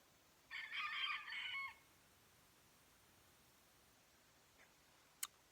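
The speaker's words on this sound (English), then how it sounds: "this chicken over here needs to die." A chicken crows loudly nearby in a single burst lasting about a second, followed by near silence with a couple of faint brief ticks.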